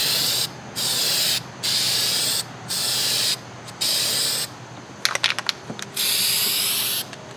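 Spray paint from an aerosol can laid onto an RV countertop outdoors: several hissing bursts of about a second each with short gaps, close and loud, followed by a brief clatter of knocks and rattles before one more long spray.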